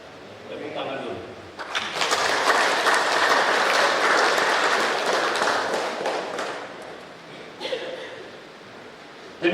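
An audience at a fire prevention and firefighting outreach event breaks into applause, swelling quickly to a loud, dense roar of clapping that holds for several seconds, then thins to scattered claps, with some voices mixed in.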